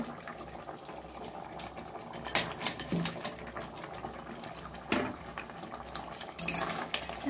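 Crab pieces stirred into a pot of curry with soft potatoes, a spoon scraping and knocking against the pot in a few sharp clanks over a low, steady bubbling simmer, no voices.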